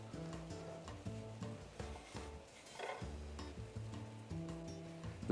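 Peas, parsley and mint are stirred into a sauce in a pan, a soft scraping and swishing with a light sizzle beneath, under steady background music, with no talk.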